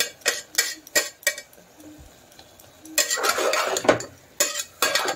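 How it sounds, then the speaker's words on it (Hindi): Ginger stirred and sautéed in a pan, a spoon scraping and clacking against the metal in quick bursts, with a soft sizzle underneath and quiet gaps between strokes. "फिर इसको थोड़ा सा भूनना पड़ेगा जब तक ना जिंजर का"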